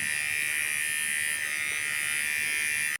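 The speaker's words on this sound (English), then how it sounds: "I've done with my face shaving and facial shaving" A small electric razor buzzing steadily while shaving facial hair, a bright constant hum held for about three seconds before switching off abruptly, close and alone.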